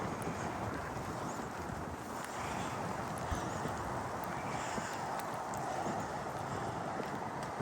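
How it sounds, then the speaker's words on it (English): Steady wind gusting on a forest trail, rushing and buffeting the microphone with a dense, constant roar and no voices. "so a little bit of a wind here"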